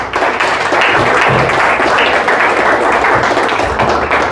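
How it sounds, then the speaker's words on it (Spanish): A church congregation applauds loudly and steadily throughout, a dense wash of clapping filling the space with a few heavier thumps underneath. "Denle un fuerte aplauso al Señor."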